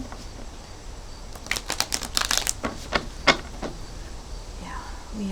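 A deck of playing cards is shuffled in a few quick riffling bursts during a tarot-style reading, the crisp fluttering clicks close and fairly loud against a quiet room.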